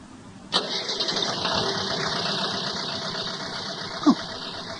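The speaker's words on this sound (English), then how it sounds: "At that moment, Marcel hears a motor start." A car motor cranks and catches, then settles into a steady idle. A short sharp knock sounds near the end, used as an effect in a spoken story.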